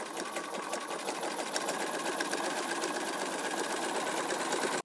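A sewing machine runs steadily and close up for nearly five seconds, stitching binding onto a quilt, with a fast even mechanical whir and rattle that stops abruptly at the end.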